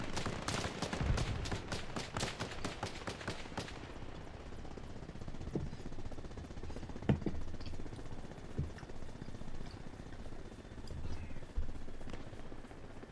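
Video game gunfire in a military shooter: a fast burst of loud rapid shots at the start, then scattered single shots and distant pops over a steady rumble of battle ambience.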